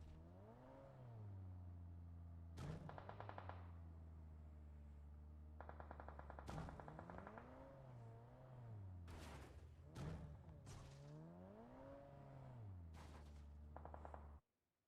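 Gunfire rings out in a PUBG Mobile tournament scrimmage, with several sharp bursts of shots spread across the clip over a steady, loud vehicle engine drone that rises and falls in pitch.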